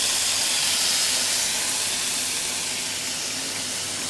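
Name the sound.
scallop and chanterelles cooking in a pan with broth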